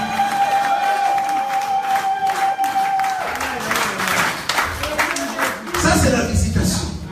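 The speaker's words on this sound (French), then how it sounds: "Donne une acclamation pour notre Seigneur." A church congregation applauding and acclaiming, mixed clapping and raised voices building over a sustained tone, with a preacher speaking over the crowd.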